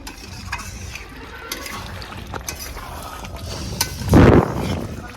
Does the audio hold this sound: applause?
no